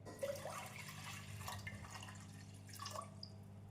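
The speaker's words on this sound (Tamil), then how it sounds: "குக்கரில் 3 டம்ளர் தண்ணீர் சேர்த்து விடலாம்." Water pours into a pressure cooker, about three tumblers' worth, as pearl millet rice is started. It makes a steady splashing, trickling stream that runs continuously at moderate volume.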